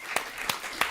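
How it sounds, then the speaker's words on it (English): A handful of sharp, evenly spaced hand claps, about three in under a second, from a panel audience at a regenerative food systems event as a farmer and co-founder is introduced; sparse and fairly close over a faint room background. "Give him a round of applause."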